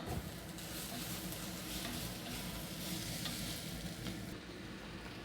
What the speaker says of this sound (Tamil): இப்போ இந்த வெங்காயம் தக்காளி வதங்கிறதுக்கு கொஞ்சமாக உப்பு போட்டு கலக்கி விடலாம்